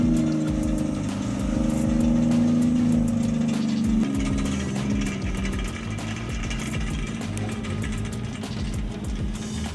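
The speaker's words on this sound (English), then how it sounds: "Its powerful engine and stable performance allow the vehicle to tackle difficult landscapes with agility" A Kenworth T659 truck's diesel engine rumbles steadily on rugged, hilly terrain, a loud continuous drone with slight rises and falls in pitch and no voices.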